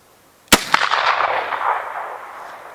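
A long-barrel lever-action rifle fires one sharp, loud gunshot followed almost immediately by a second, each blast trailing into a long rolling outdoor echo that fades over the next two seconds.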